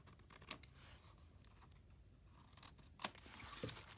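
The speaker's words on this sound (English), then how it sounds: "I might actually cut those corners off." Scissors snipping corners off a paper bag for a handmade journal, a few quiet, close crisp cuts with faint paper rustling between them.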